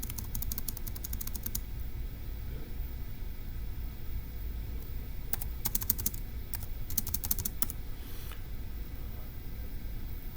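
Quick bursts of typing on a computer keyboard while entering a logic puzzle solution, several short clusters of close, crisp key clicks over a steady background hiss.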